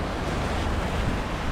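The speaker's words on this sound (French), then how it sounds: "Bon, avec la caméra, ça ne donne jamais grand chose de voir les vagues." Ocean waves at sea during an Atlantic sailing crossing make a steady, loud wash of surf and rushing water mixed with wind buffeting the microphone, continuous with no pauses.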